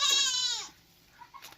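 A young goat kid lets out one loud, wavering bleat nearby, followed by a quieter pause and faint small sounds.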